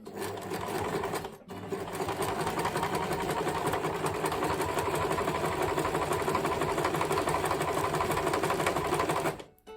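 A sewing machine set to stitch length 2.5 runs steadily along a seam for a zip insertion, a close, even mechanical whirr with a brief pause near the start and a stop at the end.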